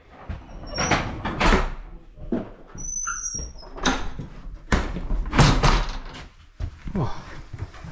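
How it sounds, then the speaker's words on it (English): A door opening at an isolated mountain bothy in Scotland, with several knocks, creaks and thuds from the door and its frame mixed among people talking nearby. "Open the door, will you?"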